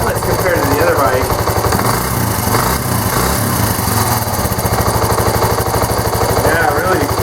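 A cold Suzuki GN125 motorcycle engine idling on its own, a steady, close, buzzing putter that runs evenly and continuously without revving.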